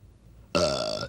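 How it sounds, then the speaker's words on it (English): A single loud, close burp bursts out after a near-silent start and rumbles steadily for about half a second, with no talking. "Burping is disgusting."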